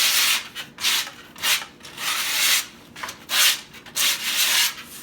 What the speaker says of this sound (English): I'm gonna file the edge of that grip tape down, basically blending my grip tape into my board